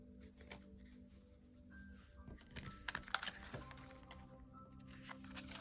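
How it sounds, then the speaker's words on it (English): A tarot deck is shuffled by hand, giving quiet, irregular clicking and riffling bursts at close range with brief pauses, alone and without speech. "That was a horrible shuffle."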